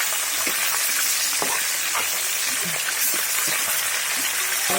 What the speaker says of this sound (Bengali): এই তো মাছটা ভাজা হতে থাক।